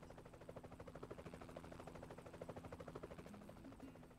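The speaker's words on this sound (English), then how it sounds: "Why do I hear a chopper?" A helicopter in the RollerCoaster Tycoon 3 video game, a faint rhythmic rotor thumping with an engine hum beneath, steady and alone.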